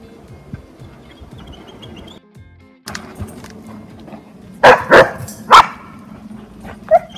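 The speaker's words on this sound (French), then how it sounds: "Un changement d'aboiement plus grave," A Dutch Shepherd being assessed in an aggression test gives several loud, sharp barks close by, mixed with whimpers and yips over a low background rumble.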